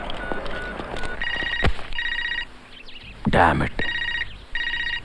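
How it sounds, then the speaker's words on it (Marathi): A telephone rings indoors in repeated bursts of bright electronic trills, loud and close, with someone briefly speaking between the rings. "फोन यायलाच हवा होता आत्ता."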